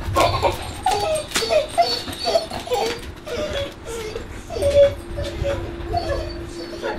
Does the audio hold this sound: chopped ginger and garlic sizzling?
no